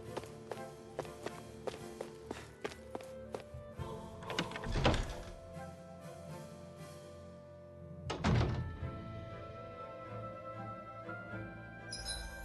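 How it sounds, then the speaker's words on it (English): Hammers banging in the video game Tales of Arise, a series of sharp metallic knocks and thuds in irregular rhythm, with a couple of louder heavy impacts, no talking. "I always love the sound of hammers banging away."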